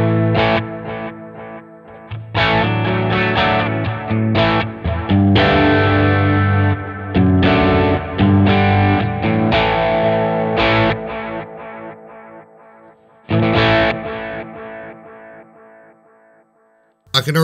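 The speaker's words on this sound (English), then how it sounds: "The next one, Mag, simulates a solid state tape echo sound." Electric guitar played through the solid state tape echo delay of a Sonicake Matribox 2 with light modulation, loud sustained chords and notes whose repeats trail off after each stop, with no talking.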